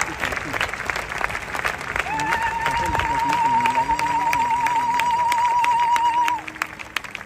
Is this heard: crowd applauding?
yes